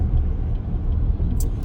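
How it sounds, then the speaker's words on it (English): Road traffic rumbles steadily past a moving car, heard from inside the cabin as a continuous low roar with a brief hiss near the end. "there's a lot of traffic there, isn't there?"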